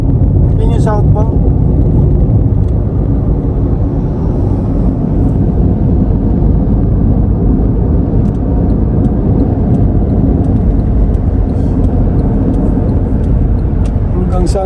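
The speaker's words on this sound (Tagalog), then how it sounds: "Hanggang saan kaya itong traffic na to?" Heavy road traffic on the southbound road near Philippine Arena rumbles as a steady, loud, dense engine drone heard from close by, with no breaks in the noise.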